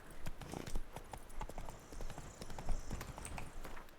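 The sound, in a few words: horse hooves clip-clopping, Roach in video game The Witcher 3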